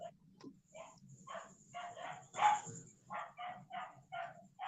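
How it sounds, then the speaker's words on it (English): A dog barks repeatedly in a noisy setting in Bangkok, a run of short sharp barks at moderate distance over a steady low background hum, with one louder bark near the middle. "It's very noisy, the dog."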